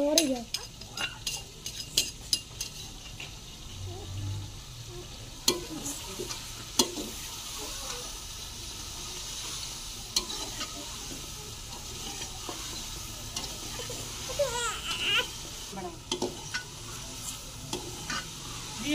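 Ginger garlic paste and tomato sizzle and fry in a pan for karela gosht, with a spoon stirring and scraping steadily and occasional clinks of utensils throughout, close and continuous with no talking.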